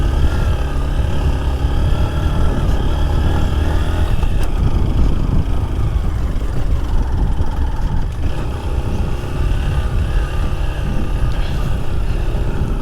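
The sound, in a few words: motorcycle riding on a mountain road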